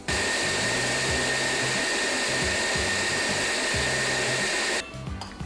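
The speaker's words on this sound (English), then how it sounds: "We then cut the onions and garlic before blending them up into a puree or paste." Kitchen blender pureeing cut onions and garlic into a paste: a loud, steady motor whine with a pulsing low churn runs close for about five seconds, then cuts off abruptly.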